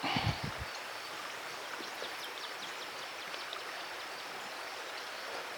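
Steady, gentle rush of water flowing over stones in a small creek, continuous and close, with a brief rustle at the start.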